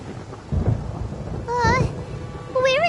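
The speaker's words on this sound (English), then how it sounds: "Paimon hears thunder!" Thunder in the video game Genshin Impact, a low rumbling roll that swells in loud bursts under a strong low-end wash, with tonal game sound effects rising over it.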